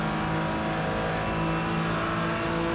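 Race car engines roar steadily and loudly through an overtaking move in an iRacing replay, a dense continuous drone with no voices.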